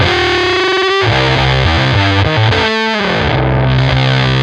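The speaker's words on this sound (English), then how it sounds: "An unmistakable big muff sound there." Electric guitar through a Big Muff fuzz pedal, a loud, thick, sustained distorted riff with shifting low notes, continuous and close with no pauses.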